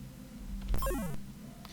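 A short 8-bit tone from the AGD game sound bank sweeps quickly downward in pitch and stops after about half a second, heard alone over a low background hum.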